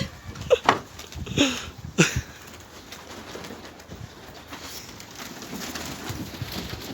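Pigeons cooing in a coop, a few loud close calls early then softer continuous murmuring coos, with a little faint movement.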